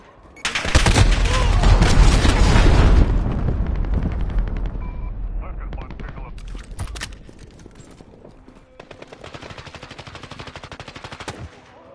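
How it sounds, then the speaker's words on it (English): Loud explosive roar from a cruise missile strike in a PS4 shooter game, followed by rapid crackling bursts of gunfire that fade and then pick up again as a dense fast rattle. "Allied cruise missile away."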